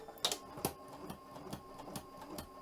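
A sewing machine stitches through a quilt sandwich for raw edge applique, its needle running in slow, uneven bursts with small clicks and pauses, fairly quiet and close, with no talk.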